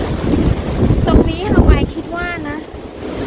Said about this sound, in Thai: ลมกับเสียงคลื่นนะคะ